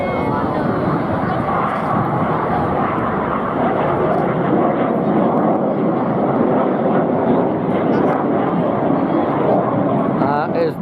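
Red Arrows synchro pair jets split apart over Swansea Bay at an air show, a continuous loud roar of jet engines rolling on throughout, with a commentator's voice running over the noise.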